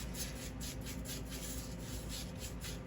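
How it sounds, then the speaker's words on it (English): A small sandpaper strip rubbed back and forth along a pen tube before lathe turning, a close, steady scratchy rasp in quick repeated strokes. "So I just take a piece of sandpaper, one of these little strips, and I just kind of rough it up good all the way down the tube."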